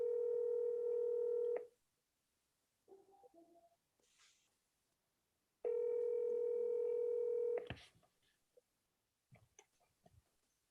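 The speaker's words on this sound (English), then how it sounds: "I'm going to give him a call, see if I can track him down" A telephone call is dialed: two long, loud steady dial-tone stretches, each followed by short bursts of dialing tones and clicks, with quiet gaps between.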